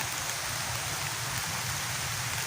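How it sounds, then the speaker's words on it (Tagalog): Steady rain falls on an outdoor field of grasses and flowers, a dense, even hiss that stays constant from start to finish with no voices. "Umuulan na naman."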